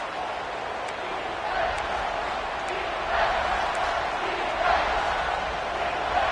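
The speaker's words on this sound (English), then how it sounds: "this crowd is at fever pitch" A football stadium crowd at a Texas A&M game roars in a continuous dense wash of noise, swelling in waves, with a commentator talking over it.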